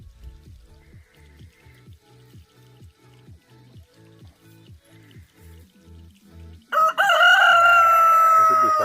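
Farmyard chickens cluck in a steady, repeated rhythm close by, then a loud burst of higher, harsher bird noise takes over near the end.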